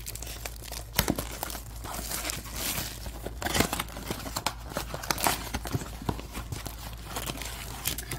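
Foil wrapping of a 2023 Topps Stadium Club baseball card blaster box being torn and crinkled open, a steady close rustle with sharp crackling tears scattered throughout and no talk.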